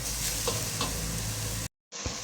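Plenty of garlic frying in a pan for a lamb seco, a loud, dense sizzle that cuts out briefly before the hissing resumes.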